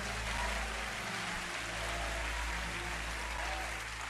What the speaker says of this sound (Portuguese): os que podem, tomem o seu assento aplaudindo a Jesus porque Ele é bom